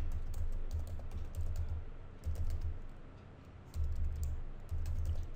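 Typing on a computer keyboard while entering text at a Unix command line, a steady run of soft, close clicks and key taps in uneven bursts, with no one speaking.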